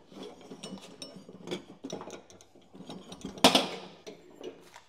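Metallic clinks, rattles and ratcheting clatter as a worn mower deck belt is worked off a John Deere Sabre 1742 lawn tractor, close and uneven, with one sharper clank near the end.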